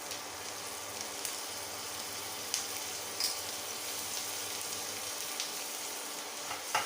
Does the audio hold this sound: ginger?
yes